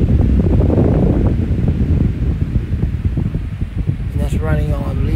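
Small Lasko 9-inch electric fan running on low in a studio, a loud steady close-miked airy whoosh with a voice speaking near the end.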